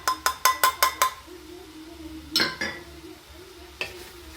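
Spices are stirred in a Fagor connected cooker pot for harira: six quick metallic clinks of a spoon against the pot come first, then a steady cooking hum, later broken by a few more scraping clinks.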